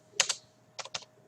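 A command is typed on a computer keyboard: two quick pairs of crisp key clicks, close and fairly quiet, separated by a short pause.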